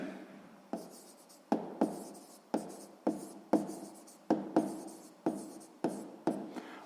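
Pen writing by hand in a math exercise book: a steady series of short scratching strokes with sharp onsets, close and fairly quiet, with no talk.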